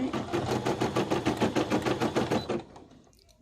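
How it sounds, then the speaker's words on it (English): An embroidery sewing machine stitches a patch, a fast steady rattling needle chatter that runs loud and even for about two and a half seconds, then stops abruptly. "lower my presser foot, and start stitching"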